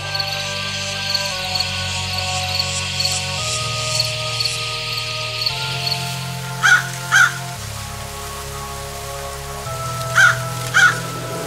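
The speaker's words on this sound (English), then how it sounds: "Ambiences like graveyards." A haunted graveyard ambience in which rain hisses softly beneath sustained eerie musical tones, while a few crow caws break through in pairs near the end.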